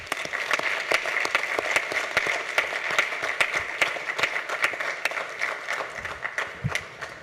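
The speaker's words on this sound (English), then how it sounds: "I'd like to give him a round of applause." Applause from the audience at a city commission meeting, a steady, moderately loud patter of many hands clapping that carries on without pause for several seconds, with no speech over it.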